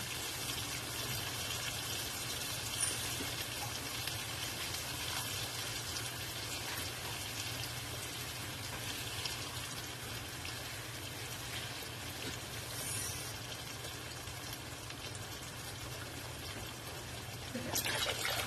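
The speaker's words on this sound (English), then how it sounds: "I'm going to fill up 2 of the cans with water and pour that in." Water from small 8-ounce cans pours steadily into a cooking pot, a continuous close splashing stream lasting several seconds with a brief louder gush near the end.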